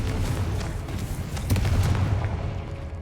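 A booming fiery blast from the Confringo spell in a Harry Potter-style video game, a dense rumbling explosion that sustains loudly for about three seconds with no pause.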